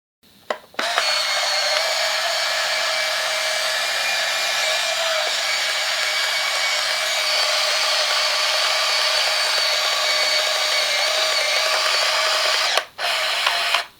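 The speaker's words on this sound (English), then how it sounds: "So I told you about Fuji TW-3 pre-winding. That's what that noise is." A steady, continuous motorized whir runs for about twelve seconds, starting and stopping abruptly, as a Fuji TW-3 35mm half-frame film camera pre-winds its film.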